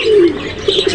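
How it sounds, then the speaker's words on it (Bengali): A male pigeon coos close by in a pigeon farm loft, a short throaty burst followed by quick soft repeated coo pulses, alone without talk. "এই কবুতরটি হচ্ছে নর কবুতর"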